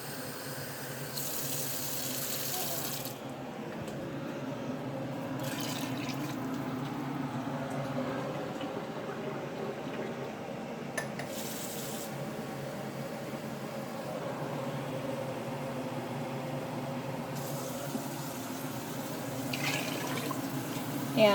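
Water runs from a kitchen tap into a one-quart measuring cup for chicken soup, a steady hissing stream that continues throughout with slight changes in pitch as the cup fills.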